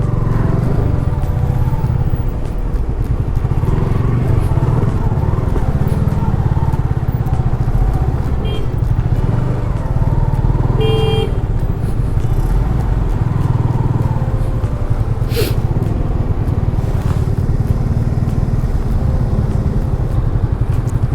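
Motorcycles and cars idle in a traffic jam on a cold mountain road near Kasol, giving a steady, loud engine rumble that runs unbroken throughout, with faint distant horns and small clatters mixed in.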